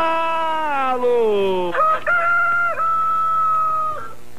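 Rooster crowing sound effect played during a Brazilian football broadcast of the 1996 Portuguesa versus Grêmio final, one long loud close crow with a drawn-out ending, played alone.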